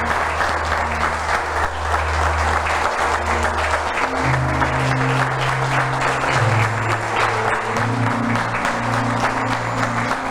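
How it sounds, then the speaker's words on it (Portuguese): A church congregation gives a long, sustained round of applause, dense and steady clapping throughout, with soft sustained keyboard tones underneath. "Vamos aplaudir mais uma vez a Ele."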